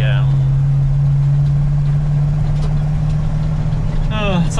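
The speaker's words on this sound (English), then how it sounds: "It doesn't like to run much below 1500 when it needs some power when it's cold." Inside the cab of a New Holland TR86 combine at night, its cold gas engine drones at a steady, loud hum with a constant low tone, while brief voices are heard at the start and end.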